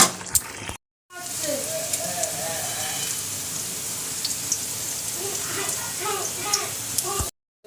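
Fish sizzles and bubbles as it fries in a spiced, well-roasted masala gravy in a home kitchen, a steady close crackle broken by short gaps, with some popping bursts toward the end.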